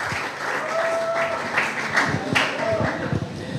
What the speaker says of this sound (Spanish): Por favor, regalémosle un aplauso a Saúl Gómez Mantilla.